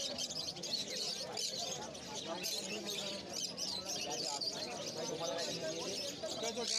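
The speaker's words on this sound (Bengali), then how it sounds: "এই খাঁচাটায় কিছু প্যাচলেস কোকাটেল আছে" Patchless cockatiels chirp and tweet in a cage at a busy pet bird market, their calls mixed into a dense, continuous chorus of other caged birds, with a voice talking over the din.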